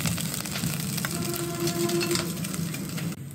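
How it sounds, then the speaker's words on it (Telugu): Small scrambled egg pieces fry in oil in a pan for brown-rice egg fried rice, a steady close sizzle with some light stirring throughout and no voices. "చిన్న చిన్న పీసెస్ లాగా ఎగ్ పొరుపు చేస్తాం కదా, ఇది కొంచెం బాగా ఫ్రై అయ్యాక పక్కకు తీసేసుకోండి"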